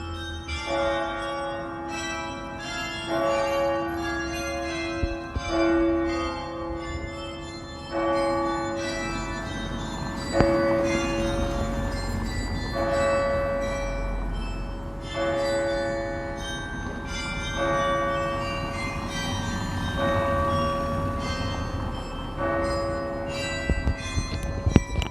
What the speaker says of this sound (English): I really do like a carillon.